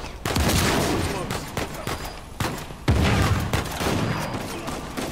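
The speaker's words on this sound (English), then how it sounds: "Haven't used the shotgun that much." Shotgun fire in the video game Uncharted 4, several loud booming blasts in quick succession over dense, continuous combat noise.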